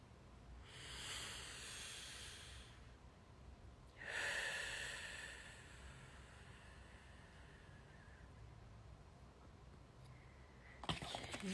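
Two slow, airy breaths drawn in and let out close by, the second starting stronger and trailing off long, with a quiet pause between and a brief rustle at the end.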